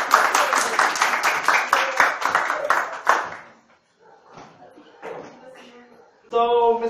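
An audience claps for several seconds in dense, steady applause welcoming a speaker at a geography talk, then it stops abruptly, leaving quiet scattered sounds and a brief tonal ping at the end.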